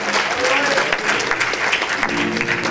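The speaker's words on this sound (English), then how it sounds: "Give the Lord a hand clap of praise for our visitors." A church congregation at a Youth Day service claps for visitors, with a continuous ripple of many hands clapping and a voice talking over it.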